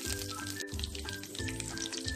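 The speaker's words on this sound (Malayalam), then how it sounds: "നമുക്കിതിലേക്ക് കറിവേപ്പില ഇട്ട് കൊടുക്കാം." Curry leaves sizzle and crackle in hot sesame oil with popped mustard seeds, a steady close frying hiss heard alone.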